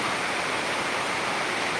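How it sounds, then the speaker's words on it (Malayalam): Heavy rain in Peringottukara, Thrissur, hisses in a constant, thick wash of noise, steady from start to finish with nothing else audible. "കുറയുന്നതില്ല മഴ"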